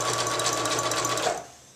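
A sewing machine zigzag-stitches over yarn to make gathers, running with a steady, close, continuous whir that slows and stops near the end.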